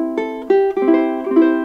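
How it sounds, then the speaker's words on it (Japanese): Someone plucks a few bright, round notes on an I'iwi Hawaiian koa concert-size ukulele. The notes ring close-up in quick succession and overlap each other. "ちょっと弾きます。こちらコンサートサイズですね。"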